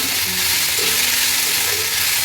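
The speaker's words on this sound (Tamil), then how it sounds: "இதை நல்லா வதக்கணும் நல்லா பொன்னிறமாக வர அளவுக்கு வ வதக்கிக்கோங்க" Dried fish thokku sautéing in a pan, a steady close broadband sizzle with faint stirring scrapes running through the whole stretch, no voices.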